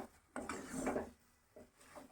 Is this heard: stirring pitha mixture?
yes